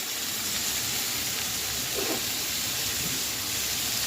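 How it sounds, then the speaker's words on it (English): Vegetables sautéing in a pot for an Easter dinner, with red onions about to join them: a steady, even sizzling hiss that runs unbroken and fairly close, with no voices. "They're sauteing up good."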